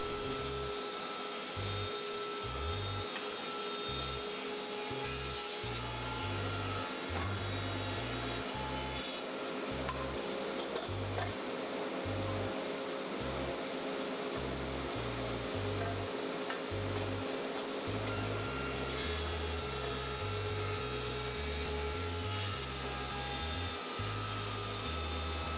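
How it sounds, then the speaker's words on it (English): A planer feeding mahogany boards, a loud continuous mechanical roar with a rhythmic pulsing low thump as each board passes through, steady and close, without any talk. "We're going to start out by planing some mahogany here."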